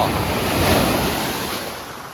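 Sea waves break on the shore at a fishing beach in a steady, loud wash of surf, mixed with wind buffeting the microphone, with no voices.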